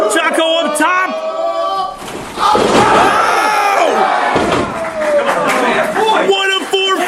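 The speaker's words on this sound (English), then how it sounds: "you hear the crowd saying main event Shaco" Loud wrestling crowd at an independent show chanting and yelling in rhythmic bursts, with slams and commentary voices over the noise.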